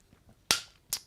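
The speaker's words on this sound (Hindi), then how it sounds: "यहां ताली बजाकर परमेश्वर को धन्यवाद देंगे" Two sharp hand claps, loud and close, about half a second apart, from a church congregation clapping in thanks to God, with no talking over them.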